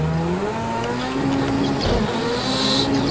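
Rallycross car race start in Project Cars 2, loud engines revving and climbing through gears with overlapping motor whines and brief tire noise, dense and continuous.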